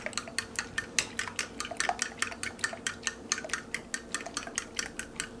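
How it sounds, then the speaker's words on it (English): Milk and liquid ingredients for a dough being stirred in a bowl, heard as a quick, regular run of light clinking strokes that stays fairly quiet and close. "Just stir those together for a moment."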